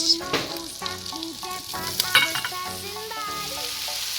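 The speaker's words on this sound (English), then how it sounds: "Okay, my butter is sizzling, so I'm going to add my mushroom to the pot." Busy sizzling and crackling of mushrooms frying in hot butter in a pot, close up, with scattered scraping stirs through it.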